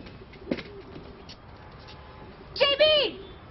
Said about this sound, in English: Now I gotta get mocked by pigeons.